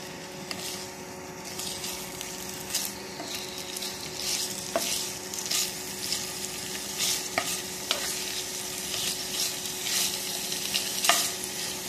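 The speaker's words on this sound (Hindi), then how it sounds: "थोड़ा सा हल्का सा फ्राई कर लेंगे चिकन को।" Chicken fries in ghee while being stirred, a continuous close sizzle broken by frequent scraping strokes and small clatters of the spoon, with no talking.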